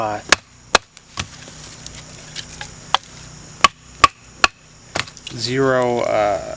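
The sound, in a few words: batoning wood with a thin hollow-ground Spade model knife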